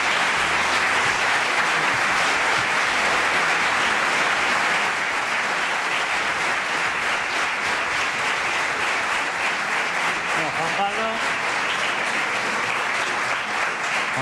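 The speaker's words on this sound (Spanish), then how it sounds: "Así que les pido otro aplauso, pero ya..." A television studio audience breaks into sustained, dense applause, loud and even throughout, with a faint voice briefly audible near the end.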